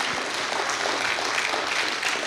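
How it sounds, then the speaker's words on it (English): A church congregation claps hands together, a continuous, moderately loud patter of many palms filling the short stretch with little speech over it. "Come on and clap your hands, somebody."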